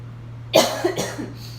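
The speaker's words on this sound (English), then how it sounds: "Oh my gosh. It's going to make me cough." A person coughs from jalapeno heat while making peach salsa: one sharp, close cough followed by two or three softer ones, loud against a quiet steady hum.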